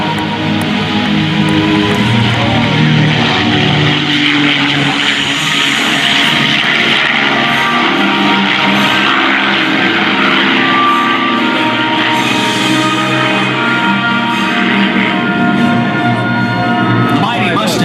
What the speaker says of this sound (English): Now, the sound of the Magic Merlin and the P-51 Mustang.